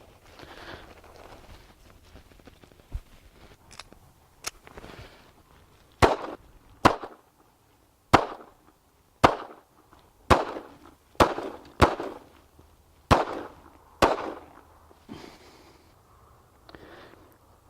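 A Ruger LCP II .380 ACP pistol fires about a dozen sharp, loud shots at uneven intervals, mostly clustered in the middle, with faint outdoor background between reports.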